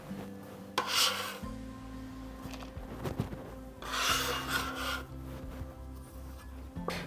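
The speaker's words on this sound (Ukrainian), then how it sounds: "Твердий сир натираю на мілку тертку." Scraping strokes of hard cheese rubbed against a fine grater, two longer bursts over a low steady hum, close and fairly quiet.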